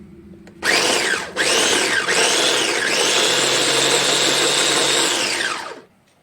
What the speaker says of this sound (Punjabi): ਮੈਂ ਟਮਾਟਰ ਲਸਣ ਤੇ ਹਰੀ ਮਿਰਚ ਚੋਪਰ ਚ ਪਾ ਦਿੱਤੀ ਹੈ ਤੇ ਹੁਣ ਅਸੀਂ ਇਹਨੂੰ ਗ੍ਰਾਈਂਡ ਕਰਾਂਗੇ